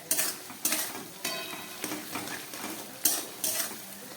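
Tomatoes tipped into hot oil and ghee in a pan for mutton kosha with papaya and potato, giving a close, steady sizzle broken by repeated sharp scrapes and clinks of a spoon stirring against the pot.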